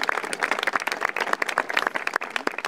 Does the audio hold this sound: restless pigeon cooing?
no